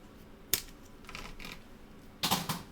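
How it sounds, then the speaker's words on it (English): Large scissors give sharp metallic snips, one crisp cut followed by softer clicks and then a double snip near the end, close and quiet in an otherwise still room. "I take another scissor and just snip, make it thinner"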